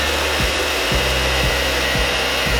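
A blow dryer blows steadily on melting crayons during crayon melt art, a loud constant whoosh with faint regular scraping or rubbing strokes beneath, and no talking.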